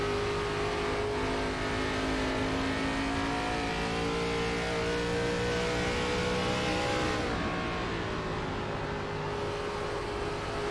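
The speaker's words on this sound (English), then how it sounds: "on the back straightaway in his Pontiac Grand Prix" A Pontiac Grand Prix stock car in an ARCA-series racing game at Iowa runs flat out, its engine a loud, continuous high-revving drone that shifts pitch slightly near the end, with no voices.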